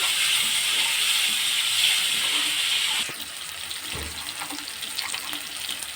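Fish sizzles while frying in a pan for Telugu fish curry (chepala pulusu): a close, bright, steady hiss that drops to a quieter crackle partway through.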